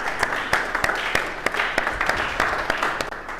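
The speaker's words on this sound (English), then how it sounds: "Please give him another round of applause." Audience applause for a speaker at a leadership event, a dense wash of clapping with sharp individual claps standing out, moderately loud and steady throughout.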